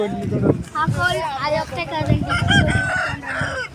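Roosters at a cockfighting event, crowing and clucking in a busy crowd, with steady loud talk from people nearby running over the birds throughout.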